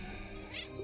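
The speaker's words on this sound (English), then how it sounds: "Meow?" A cartoon cat meows once in the Cat Quest video game, a short, clear call rising over steady game music and ambience.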